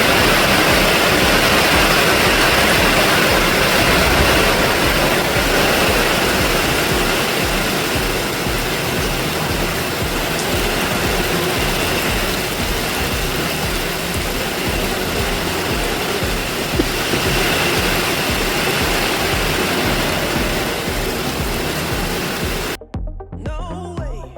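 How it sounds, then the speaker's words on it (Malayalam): Strong wind roars with heavy rain at a kayaking spot in a constant, loud rush of noise that barely changes, cutting off abruptly near the end. "നല്ല കാറ്റും മഴയൊക്കെ"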